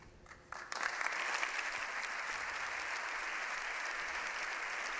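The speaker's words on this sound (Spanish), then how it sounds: "la primera ovación de los miembros del Congreso y Senado de bienvenida al Papa León XIV" Members of the Spanish Congress and Senate in the plenary chamber give a welcoming ovation to Pope Leo XIV, the applause swelling suddenly from a quiet murmur into sustained, dense clapping that fills the hall.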